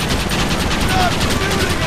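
Dense, continuous rapid gunfire from a Red Dead Redemption shootout, loud and close, a chaotic wall of overlapping shots with voices shouting beneath.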